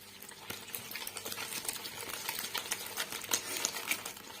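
Egg yolks being mixed in a bowl, quiet rapid clicking and tapping of a utensil against the bowl in an uneven rhythm, close and alone without talk.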